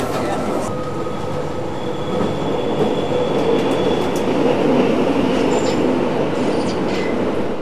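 A Centovalli railway railcar rolls along the track with a continuous loud rumble, faint squeals and rhythmic clatter from the wheels, heard from on board.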